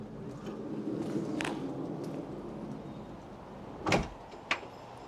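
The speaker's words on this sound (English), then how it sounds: "the rear door, you'll have heard," Power rear sliding door on a Nissan Elgrand E51 minivan runs with a quiet motor hum, then finishes with a sharp latch thunk and a softer click a moment later, close by and otherwise quiet.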